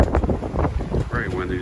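Steady wind buffets the microphone with low rumbling gusts throughout, outdoors beside a newly built stone outdoor kitchen and grill.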